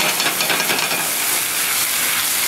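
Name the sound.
apple cider sizzling and reducing in a pan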